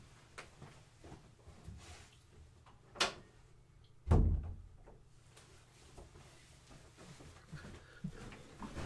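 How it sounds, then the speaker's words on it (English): A room door swings shut at close range, giving one sharp low thud in a quiet room, with a smaller knock or latch click shortly before it. "Really quick, I'm going to close my door."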